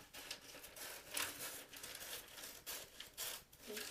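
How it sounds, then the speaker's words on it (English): Scissors slice up through wrapping paper along a marked line, a close, quiet series of crisp rasping cuts and crinkles in short bursts over about four seconds. "So I'm just going to cut right up the wrapping paper, right where I made my mark."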